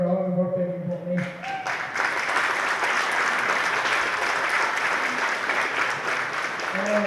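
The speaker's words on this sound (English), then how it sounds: "a round of applause to the players" A crowd at a hurling club gathering breaks into applause for the players after a few words from a speaker, a loud, dense, sustained clatter of clapping that holds steady until a voice returns at the end.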